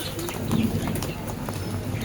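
Original Andhra pigeons, high-flying birds, give soft, low cooing in a short burst, close by but muffled under a steady background hum.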